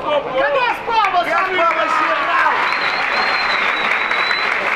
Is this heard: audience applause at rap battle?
yes